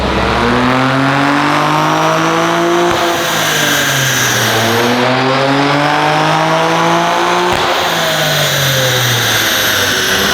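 A 2023 Nissan Z sports car with full bolt-ons revs hard during a dyno pull, loud and close, the engine note climbing through several gears with sharp drops at each shift, no voices.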